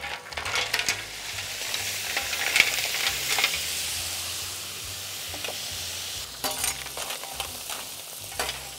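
Mussels sizzling with chorizo on a hot plancha, a moderate steady hiss with a few sharper crackles and clinks, close and without talk.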